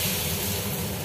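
Spinach thalipeeth flatbread sizzles on a hot oiled tava, a steady close hiss and crackle that holds level and unbroken throughout.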